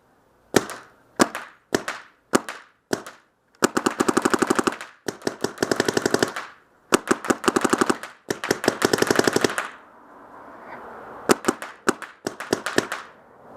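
Rapid bursts of sharp popping paintball marker shots, a Planet Eclipse Lv1.1 and an Empire Vanquish 2.0, fire in quick strings and single cracks, alternating between rattling volleys and short pauses, loud and close.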